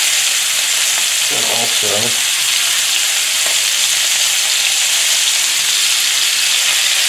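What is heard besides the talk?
garlic sizzling in a frying pan with elk steak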